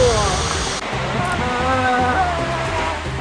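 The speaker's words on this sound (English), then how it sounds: "This is Victoria Falls, one of the largest falls in the world." Victoria Falls roars as a steady, loud wash of falling water, a dense close rumble that fills the whole stretch without a break.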